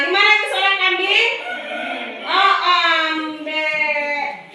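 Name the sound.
children imitating a goat's bleat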